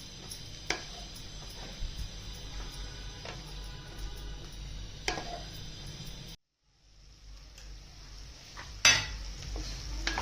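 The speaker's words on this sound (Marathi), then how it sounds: "त्याच्यात हे चिरलेले वांगे टाकून घेऊया। ते पण छानपैकी परतून घेते आता।" Chopped eggplant stirred in a pan with turmeric for masala vangi bhat, with a steady soft sizzle, occasional scrapes and clinks of a utensil, and a brief silent gap before stirring resumes.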